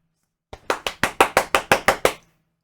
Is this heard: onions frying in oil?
no